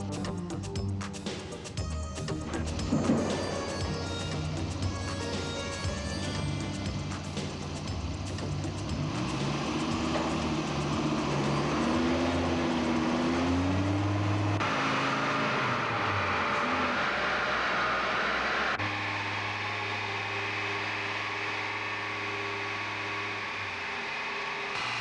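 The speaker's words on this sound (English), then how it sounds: "Each Viper that is built at Numac is tested on a dynamometer once the powertrain has been installed in the car." Dodge Viper engine running on a dynamometer at the factory, a sustained loud drone with a rising and falling pitch sweep as revs change, then settling into a steady hum.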